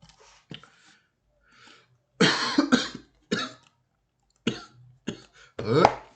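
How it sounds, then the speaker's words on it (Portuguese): Several harsh coughs in short bursts with pauses between, close and fairly loud, with no speech. "Tosse danada"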